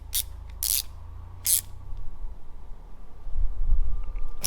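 Brass fittings being screwed by hand into an ARB diff breather, giving a few short, sharp metallic clicks and scrapes over a low rumbling background, with no talk.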